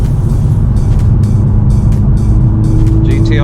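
A 315 hp VW Golf GTI Mk7.5 is driven hard on evening roads, its engine a loud, steady, close-up roar from inside the car, broken by brief sharp bursts.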